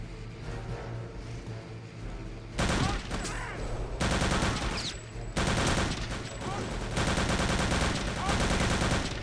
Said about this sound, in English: I thought I heard a rifle.